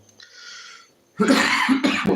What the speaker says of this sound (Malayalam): ചുമ സംസാരിക്കുന്ന അനുസരിച്ച് ചുമ വരുന്നുണ്ട് കേട്ടോ